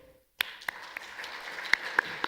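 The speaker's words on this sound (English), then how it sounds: "So please give a round of applause." A small audience at an intellectual property rights workshop begins clapping after a brief silence, a handful of sharp, scattered claps that stay thin and fairly faint.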